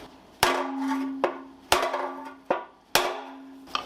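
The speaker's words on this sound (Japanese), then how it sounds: "じゃあこれ鉄板叩いてオイルパンの形直していきましょう。" A heavy one-kilogram hammer pounds a dented steel oil pan from a Caterham Super Seven back into shape: five loud, ringing metallic blows at an uneven pace, each leaving a sustained clang.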